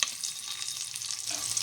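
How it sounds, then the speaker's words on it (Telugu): Finely chopped onions frying in a pan for a brinjal curry give a steady, close sizzle with a bright hiss, running alone throughout with no talk. "ఇప్పుడు చిన్నగా తరుక్కున్న ఉల్లిపాయ ముక్కలు"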